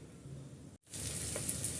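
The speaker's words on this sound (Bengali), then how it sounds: "আমি কাঁকরোলগুলো সম্পূর্ণ ভেজে নিচ্ছি" Teasel gourd (kakrol) slices fry in a pan with oil, giving a steady, fairly quiet sizzle that drops out for a moment and then resumes slightly louder.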